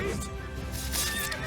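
A bandit's horse in The Witcher 3 neighs in a brief whinny, with faint hoof clops beneath a steady game soundscape, and a voice talks over it.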